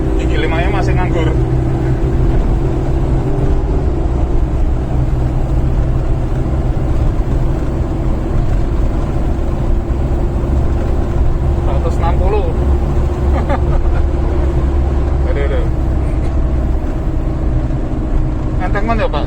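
Used ex-mining Mitsubishi Pajero cruising at speed with its engine droning steadily in gear, a continuous low rumble with road and wind noise throughout and people talking inside the cabin.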